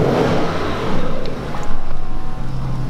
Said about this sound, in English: jadi akhirnya kita naik safety car yang tadi gue bilang